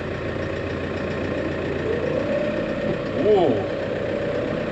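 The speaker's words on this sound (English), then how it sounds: "Nothing quite like driving a brand new tractor for the first time." A brand new tractor's diesel engine runs at a steady low idle-like drone, with a brief swell partway through and a person's short exclamation over it.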